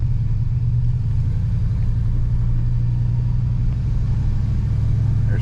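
A Chevrolet Silverado fitted with a swapped 4L80E automatic transmission drives slowly in second gear, its engine a steady, loud, low rumble from inside the cab with little change in pitch.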